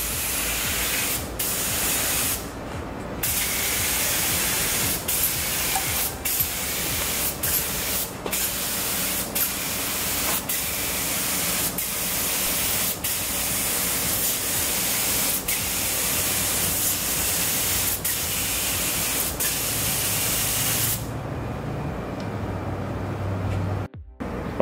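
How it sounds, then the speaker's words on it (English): A spray gun lays primer onto a repaired cracked bumper in long, steady, loud hissing passes, with brief pauses between strokes, ending in quiet near the close. "So we'll spray one light coat at first and then we'll spray 2 heavier coats"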